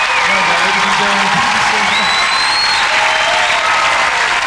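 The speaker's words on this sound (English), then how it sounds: "Let's give a big applause to Kylie Minogue, please." Studio audience applauding Kylie Minogue on a TV talk show, a steady dense wash of clapping with faint cheers and whistles, loud and continuous throughout.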